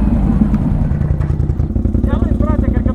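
A motorcycle engine runs with a steady, close, rhythmic pulsing throb while people talk over it on an outing in the mountains.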